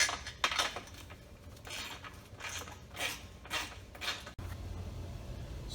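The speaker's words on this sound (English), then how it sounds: "You're going to place a lock washer and a brass nut." A lock washer and brass nut are fitted onto a carriage bolt of a heavy-duty flip-up ladder, giving a few light metallic clinks and scrapes spread across a quiet, faint background.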